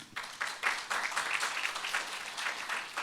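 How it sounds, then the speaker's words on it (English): Applause from a forum audience for a speaker at a security conference in Jeju, heard as a broad, steady wash of clapping that holds for the full stretch at moderate level. "Let us give one more applause to Eliot."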